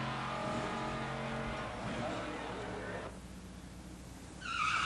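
Pure Stock drag race between factory muscle cars, a Max Wedge 426 pulling ahead in 1992: loud roaring engine drone with strong exhaust harmonics, fading slightly toward the end.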